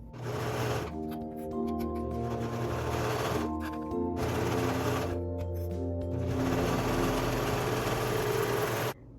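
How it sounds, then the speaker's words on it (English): A serger overlock machine runs in long steady bursts while stitching T-shirt seams, its mechanical hum starting and stopping in three stretches with brief pauses between. "I'm going to serge my seams so you can see how that's done as well"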